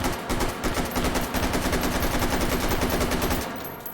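An AK-101 rifle fires full-auto in the VR game H3VR, a loud, rapid, even stream of close gunshots lasting several seconds before tapering off at the end.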